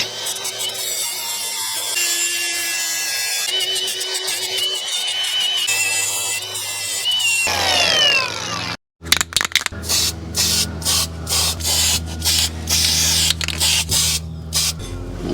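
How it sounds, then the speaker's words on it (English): An angle grinder works the edge of a 2008 Ford Ranger spindle. A long, steady whine with a scraping texture is followed by choppy, repeated bursts of grinding, close and fairly loud. "I'm just gonna hit that with the grinder real quick just to kind of soften this edge"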